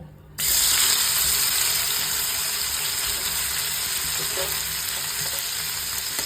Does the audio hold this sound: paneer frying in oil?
yes